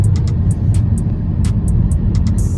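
A truck rolls past on a snowy road with a loud, continuous low rumble and road noise, while sharp high clicks or crunches recur throughout.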